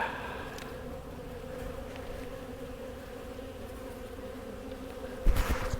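Honey bees hum inside a hive after a second hard freeze, a low, steady drone close by, ending in a brief rustle or knock.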